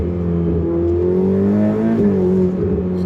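A turbocharged Ferrari mid-engine, rear-drive V8 drones loudly and steadily for about three seconds, its pitch shifting slightly as the car accelerates through gear changes.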